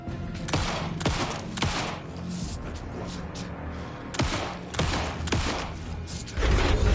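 Gunfire in the video game Alan Wake 2, with sharp shots cracking out in irregular bursts, some spaced and some clustered, loud and close over a dark ambient background.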